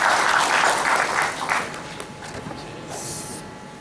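Audience applause at an academic event of a university banking and finance department, a steady wash of clapping that slowly thins and softens over a few seconds.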